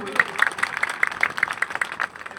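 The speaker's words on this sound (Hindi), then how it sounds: "डॉक्टर साहब के लिए जोरदार ताली बजा सकते हो भाई।" A crowd claps loudly for a doctor at a public inauguration of a community health centre and grid substation in Satasar. The clapping is dense and rhythmic and lasts the whole stretch, with a voice mixed in.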